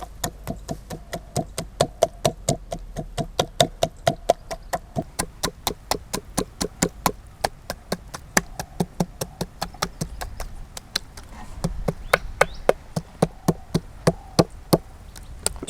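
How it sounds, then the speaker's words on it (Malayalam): A hammer wrapped in aluminium foil pounds a whole chicken flat during outdoor village cooking. Sharp, evenly spaced thuds repeat about three times a second for the whole stretch, with insects buzzing faintly behind. "ഇനിയാണ് നമ്മൾ കോഴിനെ അടിച്ച് പരത്താൻ പോണത്"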